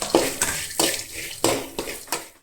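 Ground cashews go into frying onions in a pan for uppumavu, with a spoon stirring and clanking against the pan in a steady series of sharp scrapes over a soft sizzle.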